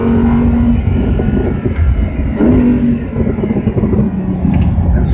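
A car's engine revs hard on a race track, rising and falling in pitch as it upshifts and downshifts, loud and close throughout.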